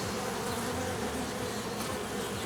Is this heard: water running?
no